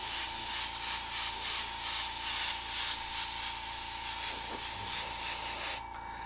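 An airbrush or spray gun hisses in steady, pulsing bursts while painting a Beetlejuice skull mask, close and continuous over a faint tonal hum, cutting off abruptly near the end.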